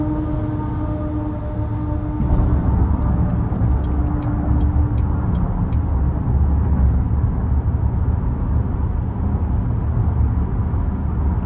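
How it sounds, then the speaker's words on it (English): A loud dump truck rolls alongside a 2018 Buick Enclave Premium V6 on the road, its deep steady rumble and drone heard from the cabin, continuous and heavy with no talk over it. "This dump truck next to me is so loud."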